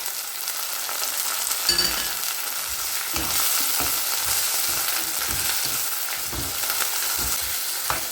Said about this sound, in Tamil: இது கூடவே நம்ம க்ளீன் பண்ணி வச்சுருக்கிற பெரண்டையை சேர்த்து நல்லா பொரிய விட்டுருவோம்